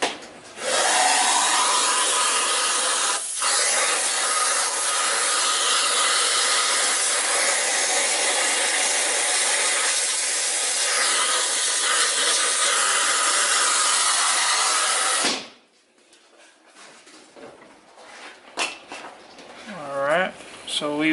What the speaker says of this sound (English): Just going to vacuum out the rest of that.